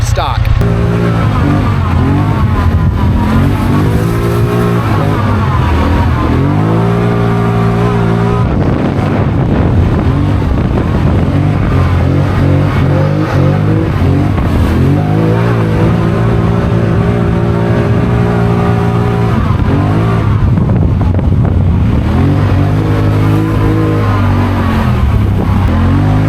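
An off-road machine converted with Highlifter suspension tears along at speed, its engine revving and surging in repeated rising and falling waves under constant wind buffeting, loud and close for the whole run.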